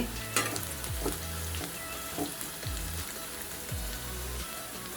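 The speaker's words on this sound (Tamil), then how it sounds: "கொஞ்சம் வெங்காயம் வதங்கட்டும்." Onions sauté in a pan for a carrot stir-fry, with a busy crackling sizzle and repeated scraping strokes of a spoon. The sound is close and steady, and no one speaks.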